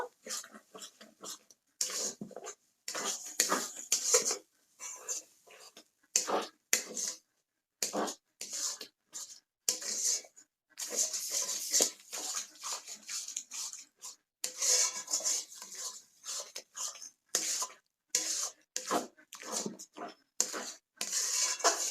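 Semolina and raw potato dough is worked in a pan over low heat, making repeated bursts of gritty scraping and rubbing separated by short pauses, close and moderately loud.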